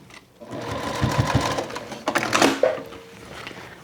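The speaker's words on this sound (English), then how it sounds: "I'm sewing only over just to hold it." A sewing machine stitches a crossbody bag in short bursts of rapid mechanical clatter, pausing briefly midway before a second run; close and clear, with soft handling noises around it.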